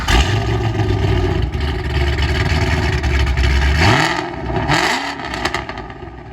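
The engine of a customized 2007 Ford Mustang GT rumbles loud and close at a steady idle. It then revs sharply twice in quick throttle blips, with deep exhaust roar and some clatter.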